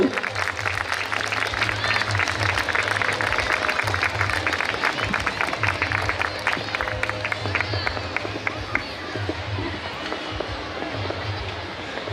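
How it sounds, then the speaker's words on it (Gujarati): Sustained applause from a crowd at a Sandha family reunion gathering, honoring a family member, with dense steady clapping throughout over a low background hum. "ભાઈઓ તાળીઓથી સન્માન કરો"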